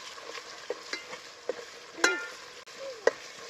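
A paste of ground roasted chili and onion fries in a pan with grated coconut already fried, close and moderately loud, with a soft sizzle broken by a few sharp clicks and scrapes of stirring.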